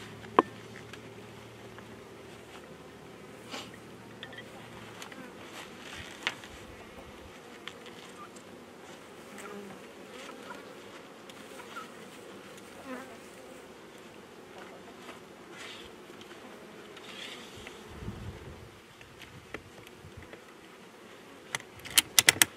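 Honey bees drone steadily around backyard hives in a continuous, moderately close hum, with occasional light clicks and knocks from the hive equipment and no talking.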